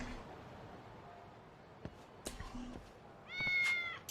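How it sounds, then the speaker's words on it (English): Cats meow in the video game Lost Judgment, a few soft, short mews scattered over quiet game ambience, ending in one longer, louder drawn-out meow. "let me check out my cats while I'm here."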